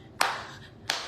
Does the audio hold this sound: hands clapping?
yes